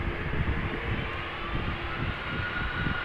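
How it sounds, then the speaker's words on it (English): A 31-year-old Boeing 747-400 freighter's engines roar at a steady, loud, broadband level as it spools up for takeoff at Amsterdam, a continuous heavy rumble with no voices. "We don't want to miss her spooling up. So this is a 31-year-old 747-400 freighter."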